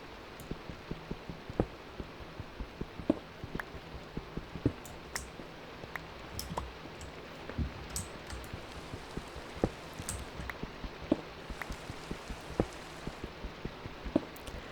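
Rain falling in the video game Minecraft, a soft steady patter with scattered sharp clicks and taps throughout, quiet and close.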